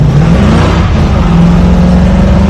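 A Datsun 280Z engine revs hard while driving on wet pavement, a loud, continuous mechanical drone that holds steady throughout with no speech over it.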